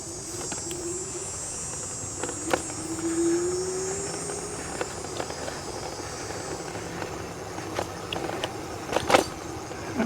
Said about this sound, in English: it's definitely a little bit bumpy. I can feel the suspensions going to work a little bit here